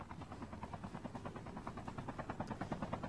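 A helicopter in a Call of Duty multiplayer match thumps with a steady, fast rotor beat, a continuous rhythmic chopping that holds at a constant level throughout.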